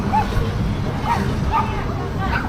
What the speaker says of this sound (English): This dog's gonna come after me.